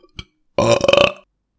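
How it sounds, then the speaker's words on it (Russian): A man lets out a loud, close belch after asking for beer: a short faint grunt, then a long rumbling burp lasting about half a second that fades into silence. "Ответил Прыво и рыгнул."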